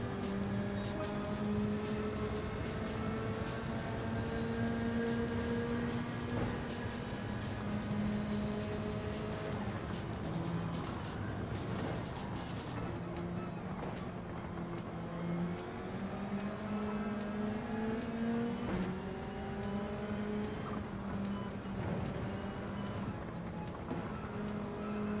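Race car engines drone steadily in a Gran Turismo racing game, a continuous tonal whine that rises and falls with gear changes, moderately quiet and without talk.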